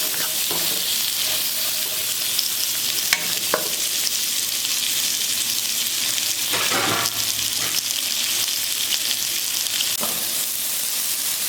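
Cloves, curry leaves and pandan (rampe) leaves sauté with onions in a pan for Sri Lankan tempered rice, giving a steady close sizzle with occasional stirring scrapes and clicks, no voices.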